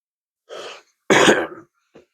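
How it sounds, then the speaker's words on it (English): A person clears their throat twice, a short rasp followed by a louder, harsher one, then a faint breath. "I had to clear my throat."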